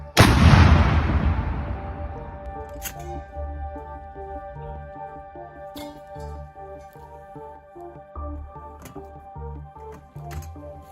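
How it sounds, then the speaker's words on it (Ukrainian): A single loud artillery shot opens with a sharp blast and long rumbling decay, heard in the field during fighting in Luhansk region, followed by a low steady engine-like hum and faint clicks. "Постріл!"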